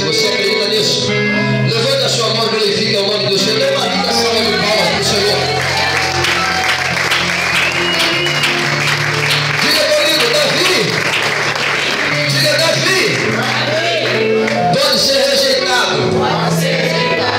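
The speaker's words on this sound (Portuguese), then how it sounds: "Dê uma linda salva de palmas para o Senhor." A church congregation applauding for the Lord during a service, loud sustained clapping mixed with crowd voices, singing-like tones and background music throughout.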